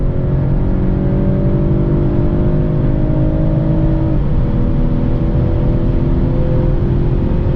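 Loud, steady six-cylinder engine drone from inside a 2022 Mercedes-Benz E450, pitch climbing and then briefly dipping as the engine revs high.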